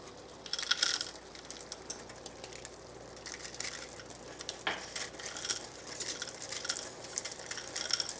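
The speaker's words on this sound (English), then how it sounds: "now we're ready to add our frozen vegetables" Frozen vegetables tumble into a pan of shepherd's pie filling, giving a rattling, crunchy clatter of icy pieces and scraping against the pan, with a sharper burst midway and steady scattered clicks throughout.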